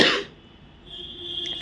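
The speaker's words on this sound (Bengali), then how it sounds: "আর কথা বলতে গেলেই কাশি আসছে।" A single short cough bursts out at the very start, close and fairly loud, then quickly fades into quiet room tone with a faint steady hum.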